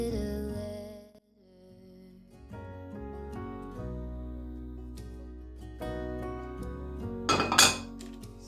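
A kitchen pan being cleaned: scattered metallic clinks and knocks of cookware and utensils sound close by over a steady background song, with a brief louder clatter near the end.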